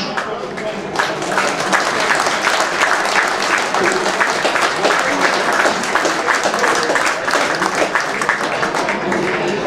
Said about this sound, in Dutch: uw applaus.